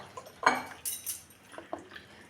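Dried fruits soaked in orange juice are stirred in a bowl, giving a few light scattered clinks and scrapes of a utensil against the dish, close and fairly quiet.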